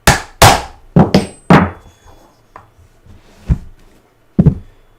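A hook fastener set in a dome-sided anvil is struck with a hammer during boot repair, giving a handful of sharp, loud metallic strikes in an uneven rhythm, with quieter taps between them.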